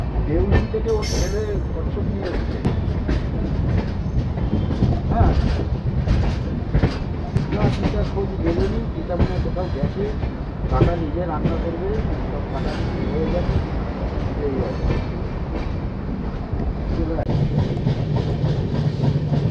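The Dhauli Superfast Express runs from Puri toward Kolkata with a steady rumble and rhythmic clickety-clack of wheels over rail joints, heard from inside the moving carriage under ongoing background noise.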